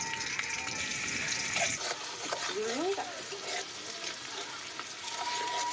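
Onions frying in a wok give a continuous close sizzle with stirring scrapes, while voices talk softly over the cooking.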